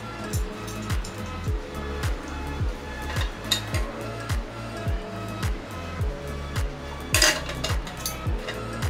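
Camping cookware such as a frying pan and a Trangia mesh tin being handled, with close metallic clinks and clatters recurring over a steady low rhythmic hum, plus a louder scrape near the end.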